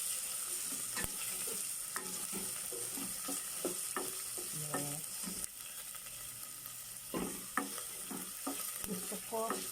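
Tomato and ginger sauté in a hot pan, a steady close sizzle with a spatula scraping and stirring throughout, unbroken by talk.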